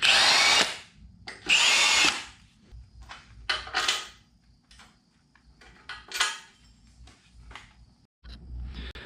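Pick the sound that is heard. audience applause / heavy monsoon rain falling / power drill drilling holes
power drill drilling holes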